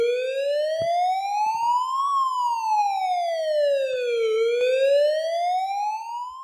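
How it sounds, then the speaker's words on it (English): A loud emergency siren sound effect sweeps slowly up and then down in pitch in a steady, continuous wail. "Emergency sirens worthy."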